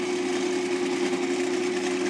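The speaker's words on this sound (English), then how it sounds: "You want to drill all the way through both sides." A drill bores through a model rocket body tube in a steady, continuous whir with a constant droning pitch, close and alone for a couple of seconds.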